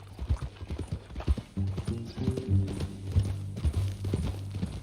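Horse hooves clip-clopping in the video game Red Dead Redemption II, a steady close rhythm of hoof beats with low tonal game sounds underneath, no talk.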